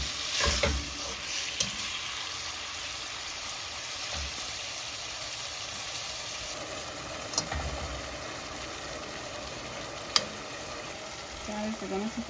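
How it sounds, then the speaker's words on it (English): Chicken for quesadillas sizzles steadily in a frying pan, a constant hissing bed with a few stirring clatters and knocks, with some faint talk mixed in. "Fry for a bit time. Get a little color."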